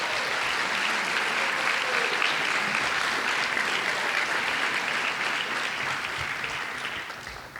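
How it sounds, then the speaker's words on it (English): Sustained applause from a large audience at a business school undergraduate award ceremony, a dense, steady clapping that holds for several seconds before thinning out near the end. "Can everyone just give him a round of applause"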